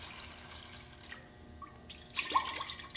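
Homemade fire cider trickles through a strainer into a jar, with soft dripping and a thin liquid stream that swells into a brief louder splash near the end, heard up close and without speech.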